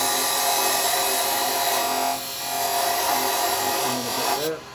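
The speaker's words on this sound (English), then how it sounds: "I'm going to come in with a thinner parting tool." A thin parting tool cuts into wood spinning on a lathe while a small Christmas angel is being turned, a steady close scraping hiss that runs for several seconds with a brief dip midway and stops near the end.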